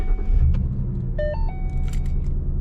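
A car with an automatic transmission starting with a normal key: a brief rising whine as the starter cranks, then a low engine rumble settling into a steady idle, with light key and interior noises close by.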